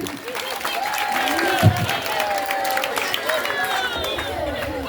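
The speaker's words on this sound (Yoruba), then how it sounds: "ẹ pàtẹ́wọ́ fúnra yín" An audience claps and cheers at a Yoruba language program held at a grammar school, a continuous round of applause with crowd noise while a voice speaks over it.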